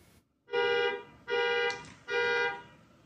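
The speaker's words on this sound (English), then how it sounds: "CPW says this resident near Genesee did the right thing by setting off their car alarm." A car alarm sounds at a home near Genesee, Colorado, set off to scare a bear away: three long, loud, buzzy horn-like blasts in an even rhythm, each about a second long with brief gaps, with no voices.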